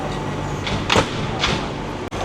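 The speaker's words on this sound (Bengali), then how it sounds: "এবার আমরা ট্রেনে উঠছি" Metro train at Suvarnabhumi station in Bangkok, the last stop on the line: a steady rumbling platform din with a couple of hissing surges, like sliding doors working, before a sudden brief drop-out near the end.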